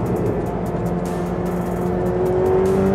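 A Ferrari 488 Pista's engine pulls hard under acceleration, a loud, steady, close mechanical drone with a rising tone across the short stretch and no speech.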